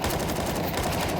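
AK rifle fire in a first-person shooter video game forms a continuous rattle of rapid automatic shots, moderately loud and steady throughout the short burst, with no voices over it.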